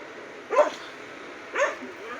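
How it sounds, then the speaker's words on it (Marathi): Two short barks from a dog a short distance away, about a second apart, over a quiet background. "कुत्रं लागलेत भुकायला."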